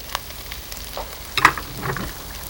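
Ginger, cardamom pods, chili, lemongrass and onions fry in a pan with a quiet, intermittent crackle and a few sharper spits and stirring clicks, close by and with no talking.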